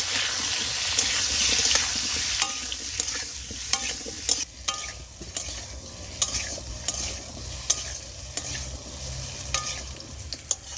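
Potato pieces with salt and turmeric frying in a pan, a loud steady sizzle at first, then repeated spatula scrapes and knocks at an uneven rhythm over the frying, close up, no voices.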